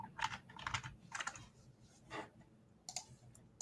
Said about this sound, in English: your keyboard sounds are so satisfying